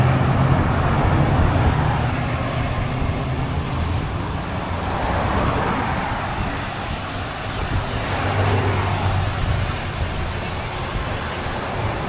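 Cars passing on a 30 mph road near Daytona Beach, a continuous broad rumble of tyres and engines with gentle swells as vehicles go by, fairly close and steady, no talking.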